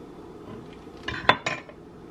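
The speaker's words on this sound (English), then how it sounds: "I'm going to take this pepperoni and slice it into a little smile shape." A kitchen knife cuts through pepperoni on a board, giving a few quick, close clicks and taps in a short cluster against a quiet room.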